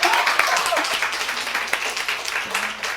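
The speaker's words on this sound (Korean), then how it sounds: "네, 이럴 때 우리 박수 한번 해." A church congregation claps during a sermon to cheer a deacon who answered a question, a short burst of lively applause with some voices mixed in.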